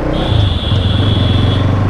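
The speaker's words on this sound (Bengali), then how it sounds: "আর পেছনে একটা আসছে সুপার বাইক ইনলাইন 4" An inline-four 650 cc superbike approaching from behind on a road, a loud steady engine drone with a sustained high whine, close throughout with little change in level, no talk.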